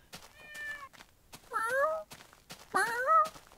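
Cat meows from a Minecraft game, two clear rising-falling mewing calls after a fainter first one, fairly close and distinct with no talk over them.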